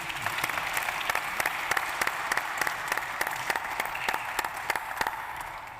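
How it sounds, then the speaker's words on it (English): Steady applause from a conference audience for a Gabon energy panel at African Energy Week, many hands clapping at a moderate, even level, with a few sharper claps standing out, no talk over it. "Je vous demande d'applaudir fortement mon panel."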